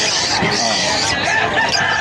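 Birds for sale at a market, likely roosters, call and cluck continuously and fairly close, mixed with a murmur of people talking nearby.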